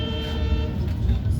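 Mitali Express passing Airport railway station, a continuous loud rumble of the moving train with steady low-frequency roar and faint tonal hum, no talk.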